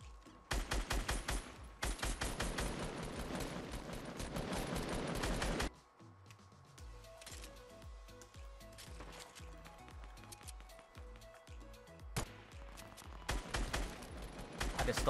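Rapid gunfire in the Fortnite battle royale video game, dense bursts of automatic shots in loud stretches at the start and end with sparser pops between, no talk over it.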